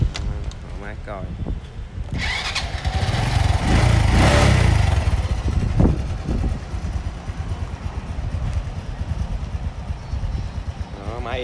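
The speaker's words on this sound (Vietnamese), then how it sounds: "Nổ máy thử cho bà con mình nghe." A motorcycle engine sputters, then catches and revs loudly before settling into a steady, rough idle, with a person talking nearby.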